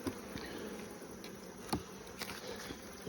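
Honeybees from a very large hive buzz in a dense, steady, quiet drone, with a few individual bees passing close to the microphone.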